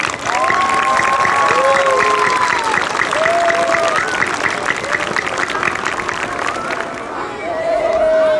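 Elementary school audience applauding honor roll students at an assembly: sustained, dense clapping and some cheering from a large crowd, loud and continuous, with a background of excited voices and babble mixed through it.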